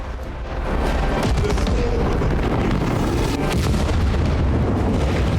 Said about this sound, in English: In a mighty shout for the Emperor, we detonate the bomb